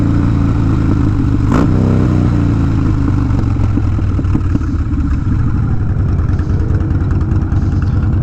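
Motorcycle engine running steadily and loud up close, with a brief sharp click early on and continuous rough mechanical clatter under rain-soaked road noise.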